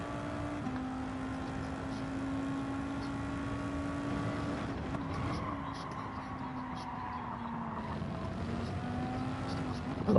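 An Audi race car engine in Gran Turismo 7 at the Red Bull Ring holds a steady droning tone that shifts pitch as it changes revs, loud and continuous throughout, with a voice talking over it.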